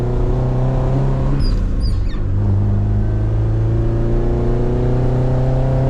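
Car engine pulling lightly in third gear, heard from inside as a steady loud drone whose harmonic pitch climbs gradually, with a brief rattle near the start of the climb.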